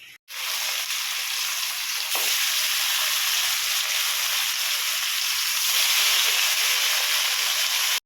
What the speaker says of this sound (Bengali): এবার এক এক করে সব মাছটা ভেজে নেব।